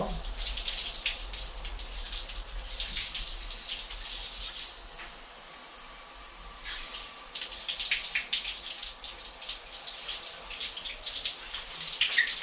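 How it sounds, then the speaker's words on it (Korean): Water sprays and hisses steadily onto a Xiaomi mini scalp massager during a waterproofing test, a continuous close splashing wash that lasts throughout. "우선 얘가 방수가 되는지 한번 물 한번 뿌려볼게요"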